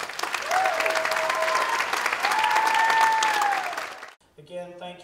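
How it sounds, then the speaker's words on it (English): Audience applauds at a high school winter jazz concert, sustained clapping with a few whistles over it, cutting off abruptly before a voice speaks. "Give all these kids a round of applause."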